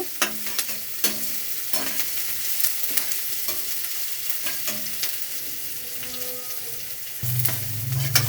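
Onions fry in a pan for beetroot palya, hissing steadily up close. Sharp clicks and scrapes of a stirring spoon recur throughout, and a low hum enters near the end.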